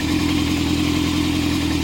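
A 1998 Yamaha Thundercat YZF600R motorcycle idles with the choke on. The engine holds a steady, close, even burble throughout, with no revving and no voices.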